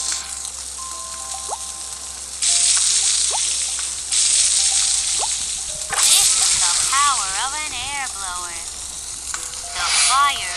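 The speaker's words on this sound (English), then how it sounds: "Let's start grilling the skewer." Skewer sizzling on a grill in a kitchen cooking game, a steady loud hiss that swells in several bursts, with cartoonish chirpy sound effects and short tones layered over it.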